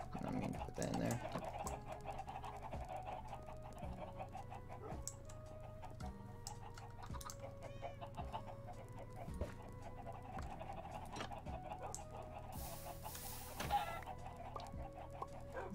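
Chickens clucking in the Minecraft video game, short game clucks mixed with background music and other game sounds, with a voice talking over them throughout.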